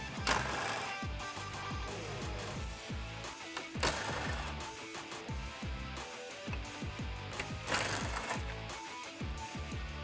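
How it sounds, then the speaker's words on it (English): Ratcheting clicks of a 10mm socket wrench loosening grille bolts on a 2014-2018 Chevrolet Silverado 1500 HD front end, rapid bursts of mechanical ticking with brief pauses, near and fairly loud, no talking. "grab your 10mm socket and remove all 4 of these"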